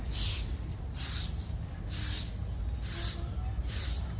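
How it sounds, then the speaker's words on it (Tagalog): Soft, rhythmic swishes of a broom sweeping, about five even strokes at a steady pace, fairly close against quiet background noise. "Nakaka-relax yung tunog ng pagwawalis"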